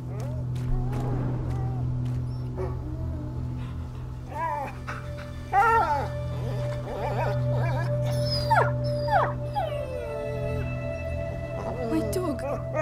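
A dog howls and whimpers in A Plague Tale: Innocence, thin rising whines repeating over a steady low drone and game score, with voices heard at times.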